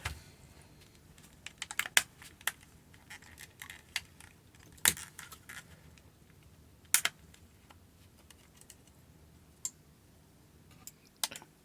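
A limited edition God of War Ragnarök PS5 controller is eased apart by hand, giving quiet, scattered plastic clicks and a few sharp snaps, close to the mic with no talking.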